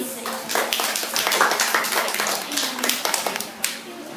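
Applause from a classroom audience at a school class debate on gadgets, greeting the second opposition speaker: a few seconds of scattered, moderately loud clapping with some murmuring voices.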